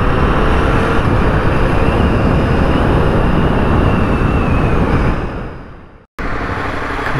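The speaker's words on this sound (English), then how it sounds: "noisy ass train." A loud train passes close by, a steady heavy rumble and roar that fades out near the end before a short cut to quieter background noise.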